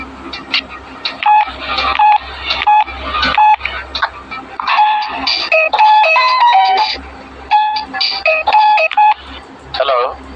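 Telephone keypad tones beep in quick irregular bursts, loud and close, as a number is dialed, with low voices and background sound under the beeps.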